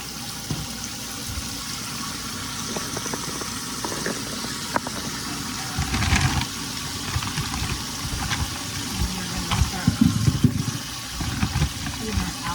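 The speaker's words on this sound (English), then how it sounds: "get our kitchen sink filled up with some water" Water runs into a kitchen sink as it fills, a steady wash of flow with a few clunks and handling noises, moderately close, with brief talk over it.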